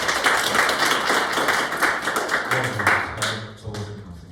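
An audience in a classroom claps, a dense, steady round of applause that thins toward the end as a few voices come in underneath.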